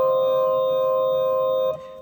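Synthesizer playing a Gothic lead patch, a single sustained bright tone with a rich stack of overtones, held steady for under two seconds before dropping to a quieter tail.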